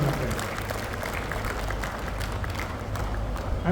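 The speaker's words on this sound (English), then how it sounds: "I think a bigger round of applause for Dr." Applause from an audience at a Rotary district conference inauguration honoring a guest, a continuous steady wash of clapping with a low background hum, even in level throughout.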